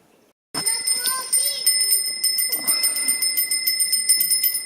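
A bell rings to announce the start of a workshop, beginning with a sudden strike and then sustaining bright, steady ringing tones for several seconds while children chatter and people talk underneath.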